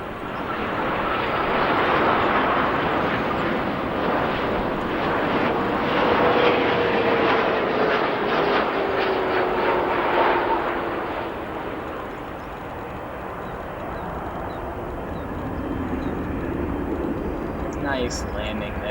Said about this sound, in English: 787-8 here that will be landing, coming in from Paris. United 787-8 flight 986